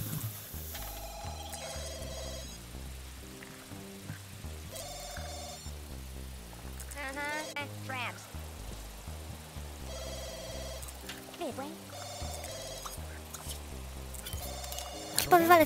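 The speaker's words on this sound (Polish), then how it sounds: "Chyba wywalę ten telefon, bo on mi tu jest niepotrzebny do niczego." The Sims 2 game telephone rings in repeated electronic trills over cheerful background music, recurring in bursts throughout.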